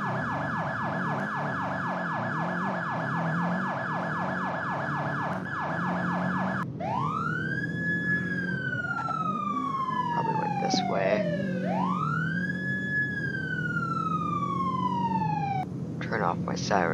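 Sirens blare loudly in a video game, first a rapid yelping pattern, then slow rising and falling wails, continuous throughout over a low engine rumble.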